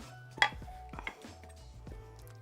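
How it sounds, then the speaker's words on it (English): Knife chopping onions on a cutting board, several sharp, close taps at an uneven pace with small clinks between them and no talking. "let's cut these onions, y'all"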